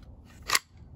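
A rifle part locking into place: a single sharp metallic click, close and brief, over faint background hum.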